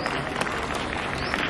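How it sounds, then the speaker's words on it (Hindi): Audience clapping at a seminar marking Vivekananda's birth anniversary in India, a steady, fairly faint wash of applause lasting just over a second with no clear break. "तालियां बजाएं ईमानदारी से"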